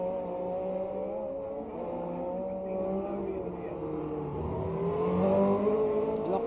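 Screaming engines of 1967 Formula 1 race cars at the Monaco Grand Prix, a steady high-pitched roar that swells louder toward the end as two cars run wheel to wheel past the spot.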